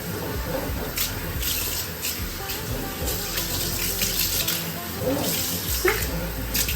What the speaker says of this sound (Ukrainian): тепер просто змиваємо це все водою